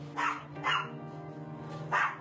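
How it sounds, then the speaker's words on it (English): A dog barks three times in short, sharp bursts at moderate distance, with quiet pauses between the barks and no talking. "take her back over there so she quit barking"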